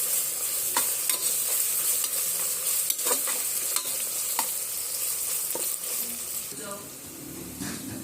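Ginger garlic paste fries with onions in a pan, a loud continuous sizzle with repeated scraping strokes of a spoon stirring through it, close and without talking.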